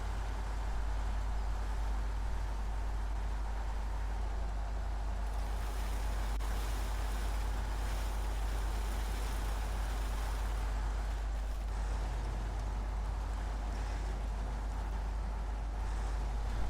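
Heavy truck grinding through deep muddy tyre ruts in SnowRunner, a continuous loud low engine drone with steady rumbling road noise throughout, no talking.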